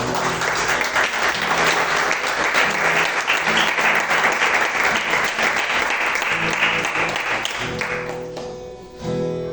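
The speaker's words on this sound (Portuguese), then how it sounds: "Aplauda o Senhor em nome de Jesus." A church congregation at a spiritual warfare service applauds the Lord, sustained loud clapping that holds steady for about eight seconds, then fades out as sustained music tones take over.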